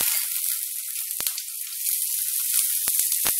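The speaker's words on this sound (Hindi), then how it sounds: "अब इसमें मैं थोड़ी सी प्याज डाल रही हूँ," Chopped onion hitting hot oil in a pan while making prawn curry, giving a loud, steady sizzle and hiss up close that keeps going the whole time, with a few brief crackles and no speech.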